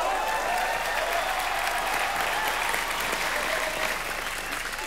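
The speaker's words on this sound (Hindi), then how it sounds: "द लेजेंडरी उदित नारायण जी के लिए जोरदार तालियां होंगी।" A studio audience on a Hindi TV comedy show bursts into loud, continuous applause, a thick, even wash of clapping that holds for the full stretch.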